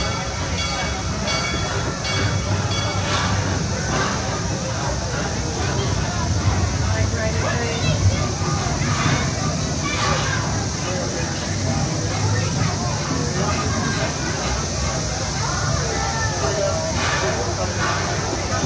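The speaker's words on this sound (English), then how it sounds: "Please remain seated until the train has come to a full and complete stop" Six Flags St. Louis amusement park railroad train, the Tommy G. Robertson Railroad, rumbling and hissing steadily as it rolls to a stop, with crowd babble and voices underneath throughout.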